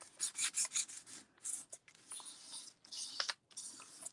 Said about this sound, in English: You can rub circular, you can rub side to side. Don't rub too hard to start with.